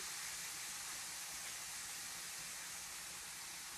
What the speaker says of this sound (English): When you combine them together, I've got the baking soda and the citric acid in here together.